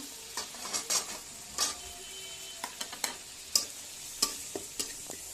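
Masala fries with prawns in oil in a pan for a prawn and bottle gourd dish, a faint sizzle under repeated sharp scrapes and taps of a spatula against metal, irregularly spaced.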